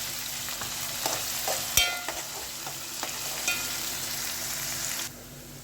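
Sliced onions fry in a pan for sayadeya rice, deep-browned almost to burning, a low steady sizzle broken by several sharp stirring scrapes and clinks before it cuts off.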